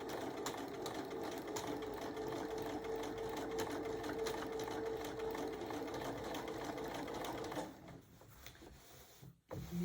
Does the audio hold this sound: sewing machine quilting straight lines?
yes